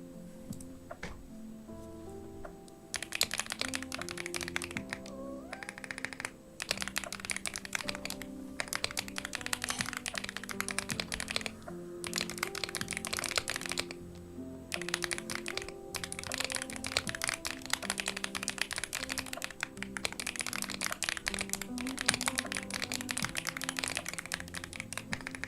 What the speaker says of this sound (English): I was typing in a Discord message